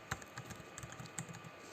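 Keys clatter on a computer keyboard while text is entered into a word processor, a quick run of light, uneven clicks close by with a couple of sharper strikes, no voice present.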